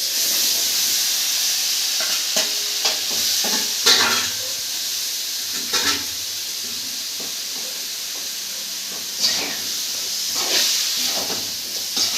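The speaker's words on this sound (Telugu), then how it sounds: "ఇప్పుడు ఇందులో కాకరకాయ ఈ ఉడకబెట్టుకున్న కాకరకాయ ఉంది కదా ఇది కూడా వేసేసుకోవాలి" Boiled bitter gourd hits hot oil in a pan, giving a steady close sizzle and hiss with intermittent stirring scrapes and soft clatters throughout.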